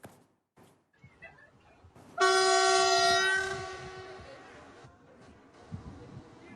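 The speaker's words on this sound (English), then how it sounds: "so the train is on test now" A new train on a test run in Ghana sounds its horn in one loud, sustained, harmonic blast of about two seconds that fades out, with faint rumble and voices before and after.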